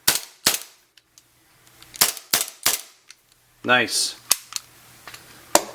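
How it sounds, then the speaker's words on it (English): A blowback airsoft pistol fires several sharp, close snapping shots with pauses between them, and a mechanical rattle partway through; a voice speaks briefly. "Blowback pistol"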